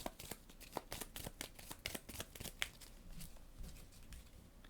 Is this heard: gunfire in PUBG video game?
no